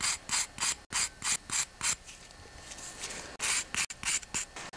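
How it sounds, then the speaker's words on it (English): A small wire brush scrubs corrosion from the edges of a Yamaha Big Bear ATV carburetor bowl in quick, bristly strokes, first short bursts, then steadier rubbing, close up with no talking. "you can clean the carburetor bowl with a small wire brush as well"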